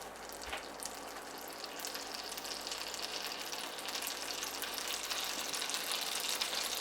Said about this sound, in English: Throw in a chunk of butter or margarine.